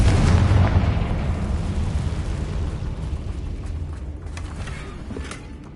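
A Confringo blasting spell explodes in a wizarding video game, a loud rumbling boom that swells at once and then slowly decays into a long low roar with faint crackles over several seconds, with no voices.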